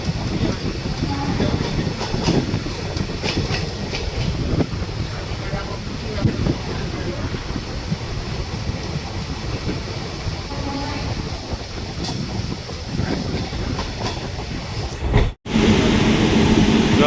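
An electric train rumbles past a platform at Porbandar railway station with continuous rolling rail noise and occasional clacks, a voice talking faintly over it, then an abrupt cut.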